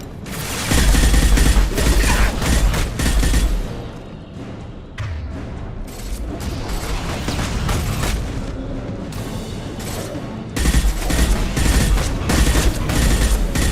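Heavy gunfire and booming blasts in the video game Mass Effect 2, loud and dense, with rapid volleys and explosions pounding almost continuously, easing briefly midway before surging again.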